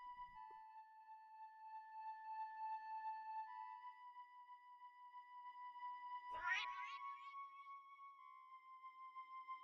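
A single short, faint cat meow in a video game rises briefly over quiet, sustained background tones, with near silence around it.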